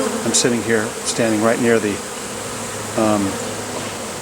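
Swarming honeybees, cold and landing anywhere, keep up a steady buzzing drone throughout, with someone talking nearby over the close swarm.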